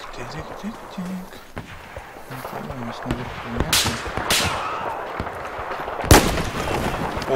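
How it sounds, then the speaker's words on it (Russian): Explosions in the video game Battlefield 4: several sharp blasts and gunfire cracks among ongoing battle noise, with one loud detonation standing out near the end and someone talking at the start. "Вот это взрыв."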